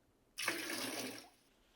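Oil poured into a frying pan before cooking vegetarian sausage, heard as a short, soft, close splashing pour lasting about a second in a quiet kitchen.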